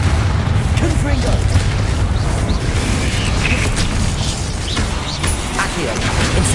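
A Confringo spell explosion in the Hogwarts Legacy video game, heard as a dense, continuous roar of booms and rumbling game effects throughout, with a voice speaking over it.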